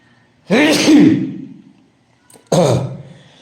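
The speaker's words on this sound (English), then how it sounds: "I got to sneeze once more." A single loud sneeze bursts out, followed after a brief pause by a second, shorter sneeze-like exhalation, both close and alone.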